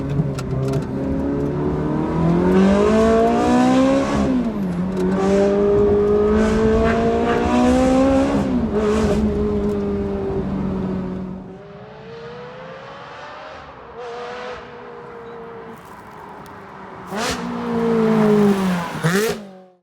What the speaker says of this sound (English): Off-roading in a Ferrari.